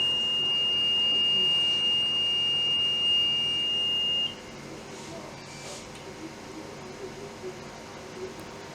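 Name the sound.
reconditioned smoke detector head alarm sounding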